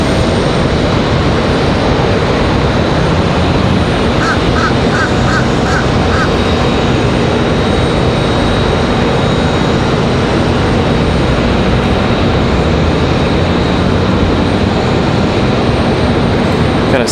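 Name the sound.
Boeing 737 Max 9 airliner at Raleigh Durham airport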